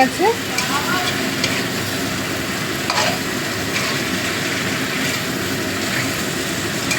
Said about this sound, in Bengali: এবার আমি ডালটা দিয়ে দিচ্ছি